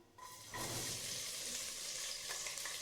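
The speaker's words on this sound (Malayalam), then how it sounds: "അതിലേക്ക് അരിഞ്ഞു വെച്ചിരിക്കുന്ന സവോള ചേർത്ത് കൊടുക്കാം" Sliced onion hitting hot ghee with spices, a loud steady sizzle that jumps up sharply after a brief quieter start and stays dense throughout, with occasional clinks of a utensil.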